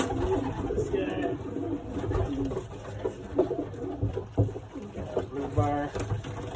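Young racing pigeons coo and rustle together inside a loft, a dense low layer of cooing with wing flutters under a voice as he talks.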